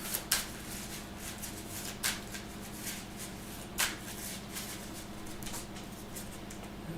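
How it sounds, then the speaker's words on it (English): Deck of Marvel Champions game cards in sleeves being shuffled by hand at a tabletop, with soft continuous riffling and a few sharper card snaps standing out, close and alone without talk. "I'll get this all shuffled up and ready to go"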